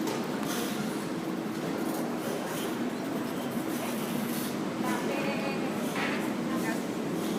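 Continuous rumbling ride noise with a rattling, rolling hum, steady and fairly loud, from an aerial tram cabin moving along in Cali; muffled voices faintly underneath.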